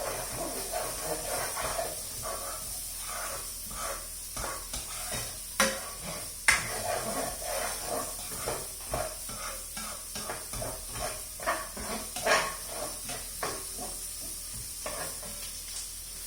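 Onions fry in a pan for vegetable khichdi with a soft, steady sizzle, punctuated by scattered clicks and scrapes of stirring, close but fairly quiet.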